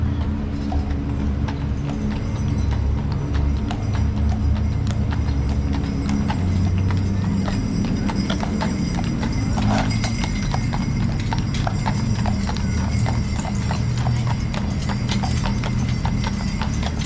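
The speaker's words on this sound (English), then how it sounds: "We have a horse-pulled carriage for carriage rides tonight." A horse pulling a carriage for Christmas carriage rides clip-clops steadily down a street in Bristol, hooves ringing in a close, even rhythm over rumbling wheels and street noise, with no talk.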